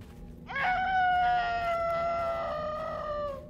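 Monster in the video game Mimic Search letting out a long, loud, wavering scream that holds for about three seconds over a low background drone.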